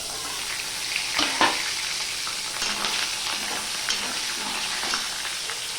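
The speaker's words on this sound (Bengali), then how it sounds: "নুন হলুদ দিয়ে ফোড়নের সাথে আমি আলুটা ভালো করে ভেজে নেবো" Diced potatoes fry in oil with cumin seeds and turmeric, giving a steady close sizzle broken by a few stirring scrapes and crackles.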